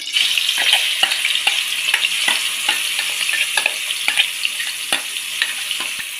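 Continuous sizzling of hot oil with repeated scraping strokes of a spoon stirring a thick drumstick-leaf paste, steady rhythm, close up.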